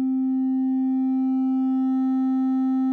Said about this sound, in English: This is just a sine wave, and I'm going to turn up the master volume of our Nord, so we're going to drive more of a signal into the blues driver.